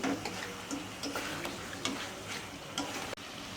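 Food sautéing in a pan while being stirred, giving a steady low sizzle broken by repeated light scraping and tapping strokes of the spoon at close range.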